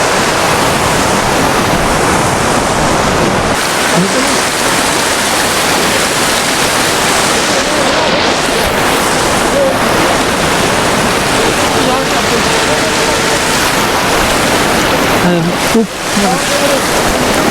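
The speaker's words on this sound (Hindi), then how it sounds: "ये सब झरनों का पानी आ रहा है" Mountain waterfall water rushes and roars continuously near Darcha on the high Himalayan road toward Baralacha La, a loud broad wash of flowing streams with faint voices briefly underneath.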